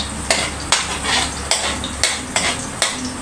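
Onions and garlic sautéing in oil for pancit, a steady loud sizzle punctuated by regular spatula strikes and scrapes against the pan, about six in a row.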